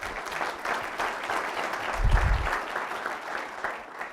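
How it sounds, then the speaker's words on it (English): An audience claps at a university lecture event, steady dense applause from a seated crowd that swells slightly midway then continues evenly, fairly close, with no speech over it. "Let's give Austin a round of applause."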